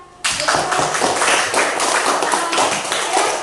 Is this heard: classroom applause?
yes